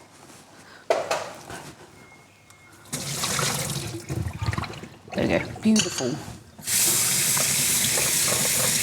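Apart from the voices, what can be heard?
tap water rinsing cooked food under cold water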